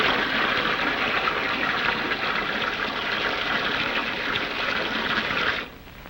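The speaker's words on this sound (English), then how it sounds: "Get some water." Water pours steadily from a tap in a loud, continuous gush that stops abruptly just before the end, with no voices.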